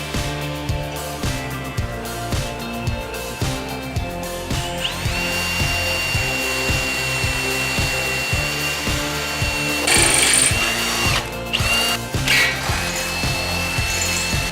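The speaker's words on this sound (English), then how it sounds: "Now we can begin drilling." A power drill bores mounting holes for LED lights on a 2012 Nissan Xterra PRO-4X, grinding in a steady repeating rhythm close by, with a higher whine joining midway and no talk.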